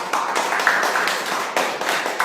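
A class at a pronunciation workshop claps together, a steady patter of many hands with a few louder surges, close and without talk.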